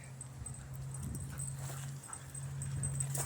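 A full-blooded German Shepherd whimpering and whining softly in a steady, high, drawn-out tone, faint and close, with no barking or speech.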